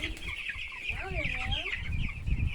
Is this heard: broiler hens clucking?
yes